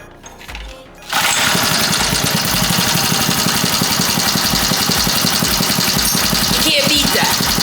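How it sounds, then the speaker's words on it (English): A go-kart engine, its idle adjusted and one spring stretched, starts after a short stretch of quieter sound and then idles loud and steady with an even pulsing rhythm close by for the rest of the clip. "After messing with the idle a little bit and stretching one of the springs, I was able to get it to idle super smooth."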